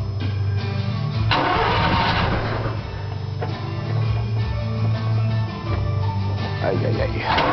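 A stock-ported 1974 Mazda RX4 rotary engine with a stock exhaust cranks and fires up, then settles into a lumpy, uneven idle with occasional revs. The engine runs close and loud throughout.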